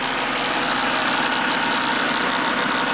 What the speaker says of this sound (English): So under the engine, there's this weird plastic rattling noise.